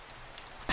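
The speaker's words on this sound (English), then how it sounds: "And it starts raining." Rain suddenly starting to fall in a video game, a faint low background that swells at the very end into a loud, dense burst of broadband rainfall hiss.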